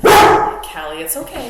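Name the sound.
dog barking indoors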